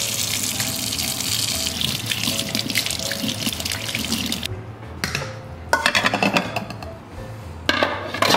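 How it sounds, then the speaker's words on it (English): Water runs steadily from a kitchen sink tap while hands are washed, a continuous hiss of flow that briefly breaks and restarts, close and fairly loud with no talk. "Okay, let's wash our hands."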